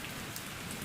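Steady rain falls outdoors, forming puddles, a dense and even patter of drops that continues without a break through a short stretch.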